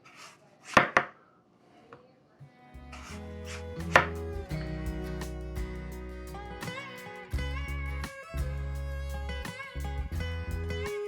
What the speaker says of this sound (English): And we'll just slice them